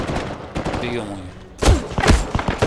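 Sniper and other gunfire in Uncharted 4 on PS4: a few sharp loud shots and thuds burst in over the second half, following quieter game ambience with music.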